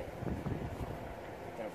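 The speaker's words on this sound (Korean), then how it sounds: "바람 많이 부네" Wind gusting outdoors in a garden where lettuce and plants are being potted, a steady broad rumble of moderate loudness buffeting the microphone throughout.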